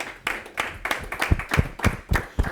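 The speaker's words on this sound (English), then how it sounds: "I want to give my audience a round of applause" A networking-event audience clapping, with distinct sharp claps in a steady, slightly irregular rhythm, close and moderately loud with no talk over it.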